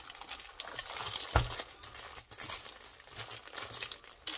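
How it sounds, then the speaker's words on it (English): Close crinkling and crumpling of plastic packaging around stamps, continuous and fairly quiet, with one sharper crunch partway through. "Sorry for the rustling."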